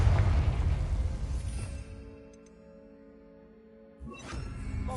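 A Confringo fire blast spell bursting in Hogwarts Legacy on PS5, a loud whooshing blast that decays into a ringing tail before a second sharp burst near the end.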